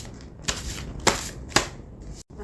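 Unicorn oracle cards are shuffled and drawn, giving three sharp riffling bursts spaced about half a second apart over faint close rustling, quiet and with no talking.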